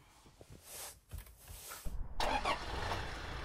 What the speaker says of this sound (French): il est peut-être temps de démarrer ce moteur et de voir ce qu'il a dans le ventre.